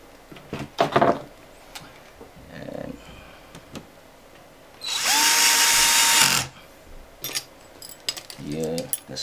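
A power drill drives screws back into an Elo Touch ET1525L monitor, one long steady whirring run and a few short bursts among clicks and handling noise, with someone talking briefly.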